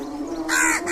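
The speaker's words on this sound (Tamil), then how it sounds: "காக்கா நீ பெருசாகிற, என்ன கொத்திடாது." A crow gives a single loud, harsh caw close by, rising out of a steady low background hum.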